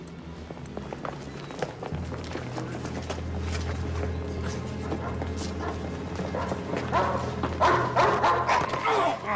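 A dog nearby gives bow-wow barks, yips and whimpers, louder and more agitated toward the end, with a few voices heard faintly in the background.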